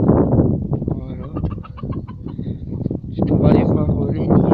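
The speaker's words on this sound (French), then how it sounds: "les 3 petites poules, les 2 coqs et la poule, ils sont là" Small flock of hens and two roosters on a farm, clucking and squawking loudly up close in a busy, overlapping cluster, while a person talks over part of it.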